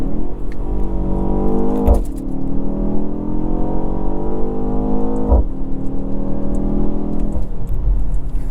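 A 2024 BMW X1 M35i with a 7-speed dual-clutch gearbox accelerates hard, its engine note climbing steadily in loud sweeps broken by quick gear shifts, heard from inside the cabin.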